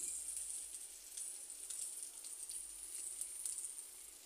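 Ginger and chili paste sizzling in a pan of oil for a fish-head curry, a soft, steady crackle with scattered pops, fairly faint and continuous throughout with no talking.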